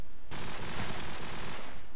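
SMG fire in a competitive shooter match on the map Crash rattles out in one dense, loud burst lasting over a second, with a short tail of noise on either side.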